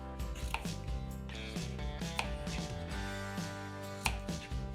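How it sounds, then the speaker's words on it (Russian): Knife cutting cucumbers lengthwise into thin strips on a board, with a series of distinct, fairly quiet taps and slices spaced irregularly over a faint background hum. "Огурцы нарезаем вдоль на пластинки."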